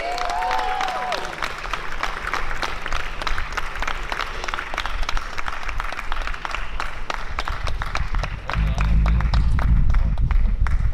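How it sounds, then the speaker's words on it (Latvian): Loud applause from a festival crowd at the Saldus Saule open stage for young talents; dense, continuous clapping holds steady, with a low rumble of noise swelling near the end. "Skaļi aplausi!"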